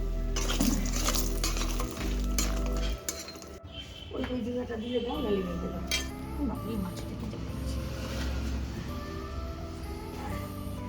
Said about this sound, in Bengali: এখানে এখন মাছ ভাজা হচ্ছে